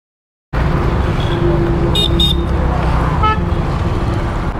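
Busy road traffic rumbles steadily close by at a petrol stop near Pallavaram bridge, with short car horn toots sounding twice and then a faint further honk.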